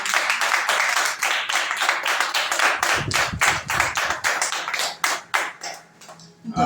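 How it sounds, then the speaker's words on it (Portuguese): A church congregation claps and applauds together, a dense steady patter of many hands that thins into scattered claps toward the end. "Você pode aplaudir ao Senhor por isso?"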